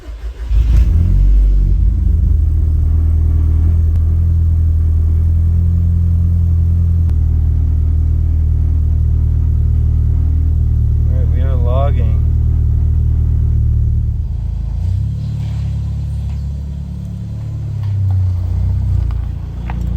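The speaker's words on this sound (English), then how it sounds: "exhaust is rattling horribly." A loud 1.8T engine in a Mk4 GTI with a K04 turbo idles with a deep rumble and badly rattling exhaust, briefly revving midway before settling lower.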